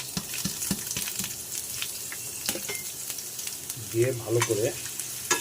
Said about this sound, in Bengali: আমাদের তেলটা গরম হয়ে গেছে, এবার আমি সবগুলো দিয়ে দিলাম